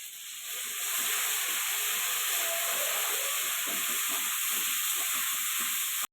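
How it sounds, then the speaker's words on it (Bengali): Green pea kochuri paste fries in hot oil in a pan, a steady, close hissing sizzle that swells after the first second and holds evenly to the end, with no talking. "তেলের ওপর কচুরির পেস্টটা দিয়ে দিলাম।"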